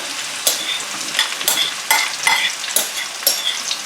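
Vegetables sauté in a pan with a steady sizzle while a utensil stirs them, scraping and clinking in several sharp strokes, close and loud.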